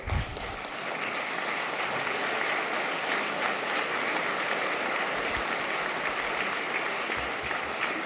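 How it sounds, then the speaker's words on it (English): Sustained applause from a large audience at a university graduation ceremony, steady dense clapping filling the whole stretch without a break, loud and close. "Please thank them by clapping."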